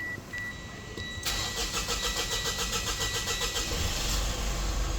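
A Mitsubishi Montero third-generation SUV engine cranks and catches at about one second, settling into a steady, pulsing idle close by after a few faint beeps, with no talking.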